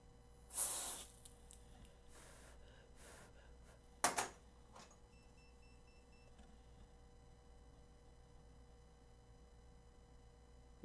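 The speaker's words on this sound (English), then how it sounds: "Gonna use the cold spray." Two short bursts of cold spray aerosol on an HP Omen laptop motherboard being repaired for no power, the first lasting about half a second and the second briefer, against a quiet background hum.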